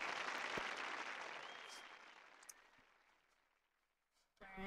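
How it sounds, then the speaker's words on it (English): Applause from a crowd in the video game Frog Detective 3, a dense clapping wash that starts loud and gradually fades away over several seconds, with a brief sharper sound near the end. "It wraps in applause."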